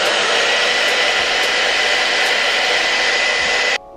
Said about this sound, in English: I'm gonna take my blow dryer now on the cool setting and pretty much make sure it stays in